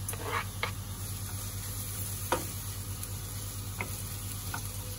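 Vegan bacon pieces frying in a pan give a faint, steady sizzle with a few light clicks and taps, heard over a constant electrical hum.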